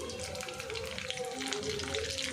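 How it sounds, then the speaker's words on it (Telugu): Chopped onions and curry leaves frying in hot oil, a soft continuous crackle and sizzle with faint popping, steady and fairly quiet, with a low tonal hum underneath. "ఉల్లిగడ్డ చిట్టపట్ట అంటుంది కదా ఫ్రెండ్స్, చూడండి"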